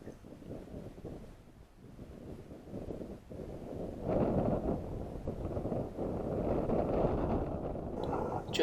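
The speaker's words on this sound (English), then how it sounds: "Just listen to that wind." Bitterly cold wind gusting across open countryside during a rabbit hunt, a steady roaring rush that swells louder midway and stays strong, buffeting the microphone, with no talking.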